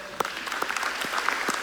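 Applause from a church assembly at a quadrennial session, scattered claps building to a steady patter in a large hall, fairly faint and without voices over it.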